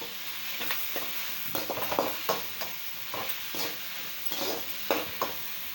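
Tomato and asafoetida sautéed in a pan for a spinach kadayal: steady sizzle with repeated scraping stirs and occasional utensil knocks against the pan, close and moderately loud, no talking.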